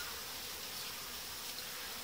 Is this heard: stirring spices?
no